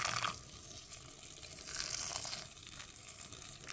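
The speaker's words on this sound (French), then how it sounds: "Je vais la rajouter par-dessus de l'eau chaude." Hot water streams steadily over a bowl of dried rice vermicelli while chicken nem filling is being prepared; a close, continuous splashing pour with some crinkling, no voices.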